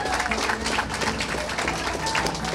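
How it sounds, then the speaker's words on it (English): A festival crowd at the Arab and Chaldean Festival in Detroit gives Dr. Jacob a round of applause, dense sustained clapping with some crowd murmur mixed in. "Let's just give him a round of applause"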